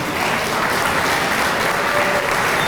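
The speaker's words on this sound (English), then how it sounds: "Please, everyone, a round of applause for Eddie Nee." A short burst of dense, steady applause from an audience at the Cleveland International Hall of Fame ceremony, with many hands clapping at a constant, fairly loud level and no voices.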